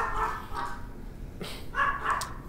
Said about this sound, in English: So you hear my dog's barking outside.